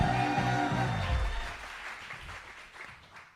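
A comedy club audience at a live Kill Tony show applauds a comedian walking on stage, a dense wash of clapping that fades over about three seconds, with a faint murmur of voices underneath.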